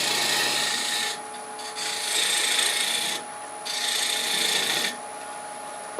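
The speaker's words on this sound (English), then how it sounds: "I'm going to switch to a detail gouge so I can get in there a little bit cleaner." Detail gouge cutting a Bradford pear wood bowl on a lathe, a steady close scraping rasp that comes in sustained passes with brief lulls between cuts, under a constant machine hum.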